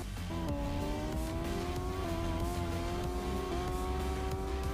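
Formula racing car engine in the Impossible Formula Car Tracks video game, a loud steady whining rev that climbs gradually in pitch across shifts, continuous and close.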